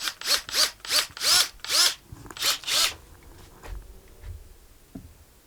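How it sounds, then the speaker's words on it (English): A power drill boring a round hole for a porch light install whirs in several short, rising bursts, then stops, leaving quiet handling noises and a faint knock. "So all we have to do is drill a round hole."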